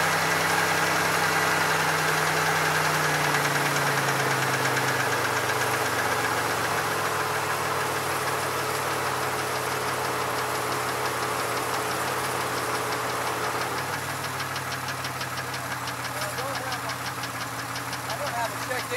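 A 2002 Chevy Malibu engine idles steadily with a knocking, vibrating mechanical rumble, loud and close throughout, its pitch shifting slightly partway as the idle changes.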